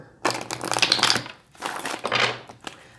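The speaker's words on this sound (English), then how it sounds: "I'm just going to shuffle a couple more times and we'll get started." Tarot card decks shuffled by hand in two crisp, rustling riffle bursts, the second shorter, close and fairly loud with a brief pause between.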